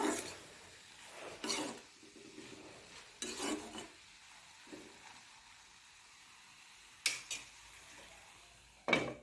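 Taro and tomato curry stirred in a pan, with a few bursts of scraping spoon strokes against the pan between quiet stretches and soft sizzling, ending with a sharp clatter as a lid is set down.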